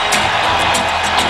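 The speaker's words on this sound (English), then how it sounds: "everybody gives them a great big cheer" A large football crowd cheers and roars as the teams run onto the ground through the banner, a dense, steady wash of voices with a few whoops rising above it.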